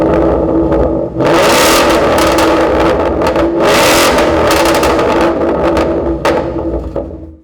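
A car fitted with a Roush catback exhaust, resonator delete and X-pipe revs hard nearby, with repeated loud, crackly, aggressive surges and brief drops between blips.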